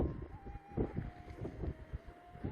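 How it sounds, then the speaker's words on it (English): Wind gusting outdoors at night, buffeting the microphone in uneven low rumbles and bursts, with a faint steady tone running beneath. "It's a little bit windier than I'd like"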